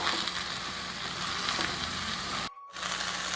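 Curry leaves roast in a hot pan with a steady, close sizzling crackle that runs throughout and stops briefly for a moment near the end before resuming.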